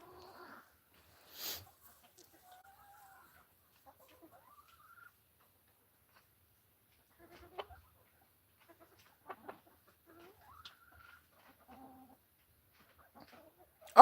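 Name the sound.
silkie bantam hens on a farm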